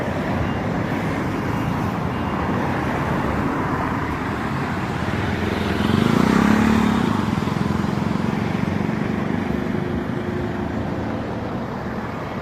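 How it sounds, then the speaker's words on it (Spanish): A river's steady broadband rush blends with road traffic as cars pass by, one vehicle swelling louder for a few seconds before fading back into the continuous wash, with no talking. "tratara de grabar al río con los autos que pasan por ahí"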